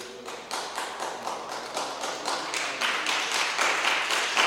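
A church congregation breaks into clapping during a sermon, the claps falling into a strong shared rhythm that grows steadily louder and fuller, close and lively with no talking.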